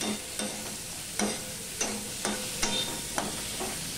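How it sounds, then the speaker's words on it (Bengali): Potatoes with salt and turmeric sizzle steadily in a hot pan while a utensil scrapes and stirs about every half second, close up, with no voices. "এবার নুন হলুদ দিয়ে আমি আলুটাকে ভালো করে ভেজে নেব।"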